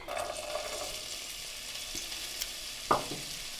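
Sliced carrots tossed into a hot pan of vegetable stir fry, giving a steady soft sizzle and frying hiss with a couple of brief clinks and stirring scrapes, close and fairly quiet.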